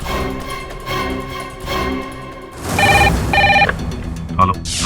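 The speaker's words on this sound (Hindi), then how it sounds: "आप कहते हैं तो मैं पुलिस को फोन कर लेता हूँ" A telephone rings for an outgoing call in short repeated electronic bursts, heard over a brief stretch of quieter room sound and a voice.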